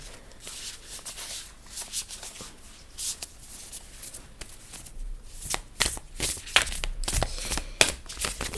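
A deck of oracle cards being shuffled by hand: quick papery riffles and slides in bursts, close and crisp, growing busier and louder toward the end.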